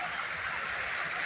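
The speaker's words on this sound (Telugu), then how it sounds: "ఇక చూడండి ఇక్కడ ఒక వాటర్ ఫాల్" A garden waterfall gives a steady, even rush of falling water, continuous and moderately loud without pauses.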